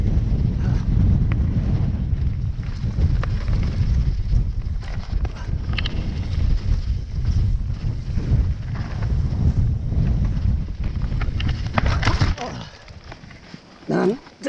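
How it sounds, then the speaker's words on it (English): Strong wind buffeting a microphone during stage 4 of the Dunkeld mountain bike enduro descent in October, a loud continuous low roar filling most of the stretch before easing near the end, with a rider talking over it. "So windy."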